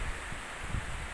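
Strong wind buffets an open spot near a boat on the water, a steady rushing roar with low gusty thumps against the microphone.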